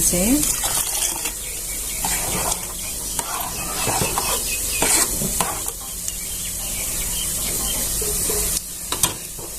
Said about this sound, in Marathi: इथं दूध भात आणि गरम पाणी एकत्र करून आपल्याला याच्यात घालून घ्यायचं